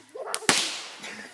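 A small firework cannon lit at a family fireworks night goes off with a single sharp crack-like bang after a short fizz, followed by a brief hissing tail outdoors.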